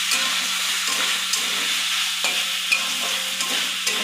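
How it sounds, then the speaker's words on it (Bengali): A spoon stirs vegetarian papaya curry with chili powder in a hot pan, with steady sizzling and repeated scraping strokes in a rhythmic pattern, close and clear, with no voices. "দিয়ে আবার একটু ভালো করে নেড়ে চেড়ে নিই"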